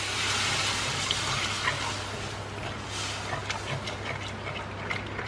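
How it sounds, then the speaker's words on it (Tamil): Water poured into a pot of sambar, a steady, close splashing gush lasting several seconds with small bubbling spatters. "ஸோ இப்போ வந்து தண்ணி ஊற்றிடுங்க"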